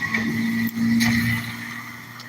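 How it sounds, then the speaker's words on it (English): A FedEx vehicle drives past close by on a street, a brief engine hum and tire swell that rises and fades within a couple of seconds, no talking. "hold on, another car coming."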